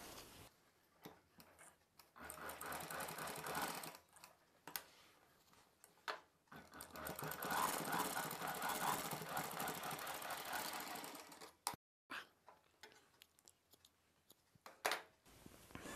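A sewing machine stitches elastic onto palazzo pants in long bursts of rapid, buzzing mechanical running with short pauses between them. It sounds close but fairly quiet.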